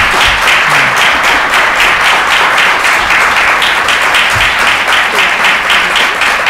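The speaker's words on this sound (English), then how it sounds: "Can we have a round of applause for all the candidates, please?" An audience applauds candidates at a public forum, a steady, dense wash of many hands clapping that holds loud and even throughout with no talk over it.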